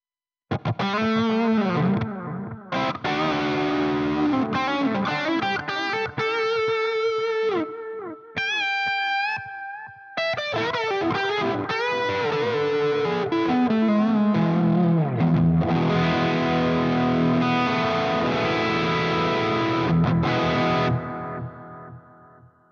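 Heavily distorted electric guitar played through an ML Sound Lab Bulb Zilla cabinet preset called butter, with loud, close riffs, chugs and held notes, a brief pause near the middle, then a long sustained chord fading out.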